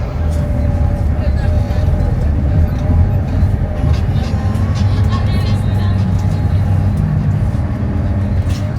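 Steady low engine rumble and road noise from inside a moving bus on a trip between Togo and Benin, continuous and fairly loud with occasional rattles.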